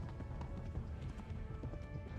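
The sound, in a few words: horse galloping in video game Kingdom Come: Deliverance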